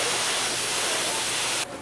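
Steady aerosol colour spray hissing continuously onto the hair of a show cow at a 4-H livestock event, loud and close, cutting off abruptly near the end.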